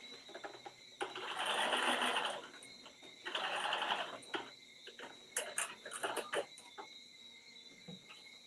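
A sewing machine stitches a Simplicity 9598 pattern garment, with two long steady runs of close mechanical whirring followed by shorter, choppier bursts and light clicks.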